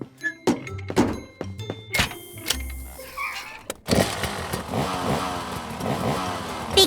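Several thunks, like doors or a vehicle being loaded, lead into a cartoon vehicle's engine starting up and revving. It drives off for a spin on the open road, loud and close, rising and falling, with no talking.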